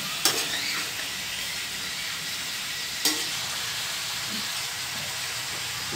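Pork humba stew being stirred in a pot, a steady close sizzle and simmer with two sharp scrapes of the spoon against the pot near the start and midway, no talking.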